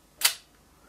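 A single crisp mechanical shutter release from a 1932 Leica camera set to 1/500 second, one sharp bright click that decays quickly, close up in an otherwise quiet room.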